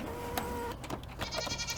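Goats on a farm where chickens roam among them give short, quavering bleats over steady low background noise, fairly quiet and close.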